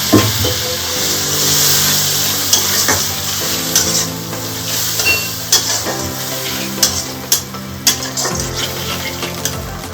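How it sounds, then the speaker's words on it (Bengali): Spice masala for a Bengali doi katla fish curry fries and is stirred in a pan over lowered gas heat, a steady sizzle running the whole time with repeated scraping strokes and occasional light clinks of the utensil against the pan. "আমি সামান্য একটু জল দিয়ে দেবো মশলা কষানোর সময়।"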